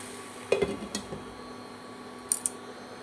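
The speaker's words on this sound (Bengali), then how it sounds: "এবার নেড়ে চেড়ে আমি একটু ঢাকা দিয়ে দেব।" A spoon stirring papaya curry in a metal pan, followed by a lid set on top: a few light scraping clinks early on, then two short sharp metallic taps near the end over a quiet kitchen hum.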